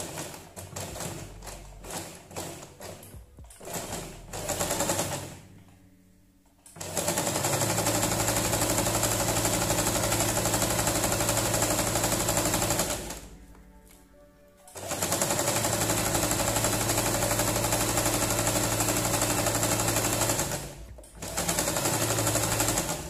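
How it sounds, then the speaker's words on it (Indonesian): A sewing machine stitches fabric scraps into a shopping bag, running in long steady bursts of rapid mechanical chatter, each several seconds long, separated by short pauses. "Kita jahit sisi-sisinya terlebih dahulu."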